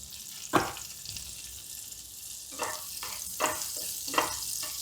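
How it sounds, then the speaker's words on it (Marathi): Amul butter with a little oil heats in a pan for masala pav, giving a steady soft sizzle and frying hiss punctuated by several sharper stirring or spatula scrapes, close and alone. "पॅनमध्ये मी थोडंसं अमूल बटर हे असं गरम करायला ठेवत आहे। ते जळू नये म्हणून मी थोडंसं तेल यामध्ये घालत आहे।"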